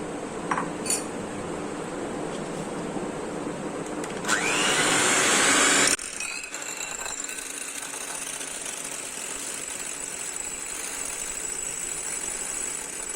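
An electric beater whirs steadily as egg whites are whipped for a vanilla cupcake batter, a loud continuous motor hum that rises in pitch for a couple of seconds, then cuts out, leaving a quieter background.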